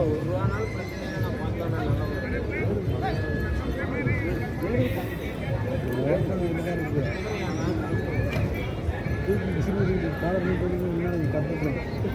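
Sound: horses neighing at a livestock market

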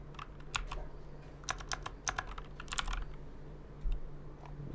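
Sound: typing on a computer keyboard

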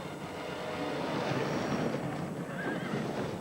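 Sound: horses whinnying after racing fall

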